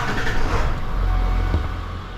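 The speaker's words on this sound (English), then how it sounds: "Powering on engine now, starting." Ford F-250 with a 7.3 Powerstroke diesel engine, a steady loud low rumble of a running motor filling the whole short stretch, no talking.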